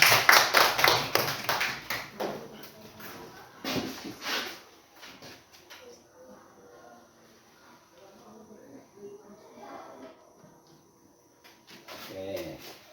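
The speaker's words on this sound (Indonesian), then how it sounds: "Ayo tepuk tangan untuk Raka dulu." Students in a classroom clap in a burst of sharp, irregular claps at the start, then the sound drops to quieter room noise with soft talk, and a few more claps come near the end.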